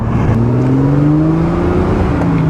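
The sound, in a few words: 1970 Triumph TR6 2.5-liter inline-six engine accelerating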